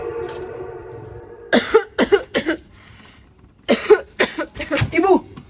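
A mother coughs in harsh, repeated fits during a student drama, with two clusters of three or four coughs separated by a quieter pause and a low tonal hum at the start.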